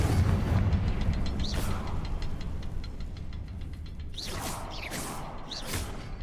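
Confringo fire spell cast in Hogwarts Legacy, a few sharp whooshing bursts with fiery crackle over steady game ambience and ticking mechanisms, no talk.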